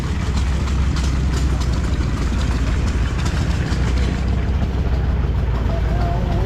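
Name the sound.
6-cylinder U282 LP power unit engine running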